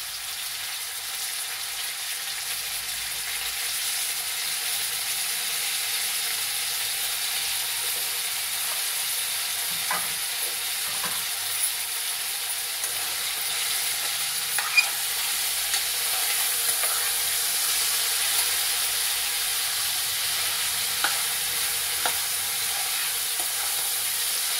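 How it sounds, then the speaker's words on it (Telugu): Baby potatoes frying in oil in a pan for curry, a steady soft sizzle and hiss with occasional faint stirring clicks, close and continuous without speech. "ఆలు బాగా ఫ్రై చేసుకోవాలండి ఆయిల్లో."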